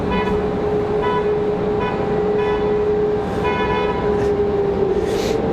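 A car horn honks in a series of short blasts, then a longer one, near an airport, heard loud over steady traffic rumble.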